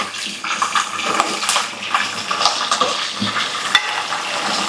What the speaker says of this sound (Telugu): పచ్చిమిరపకాయలు వేస్తున్నాను.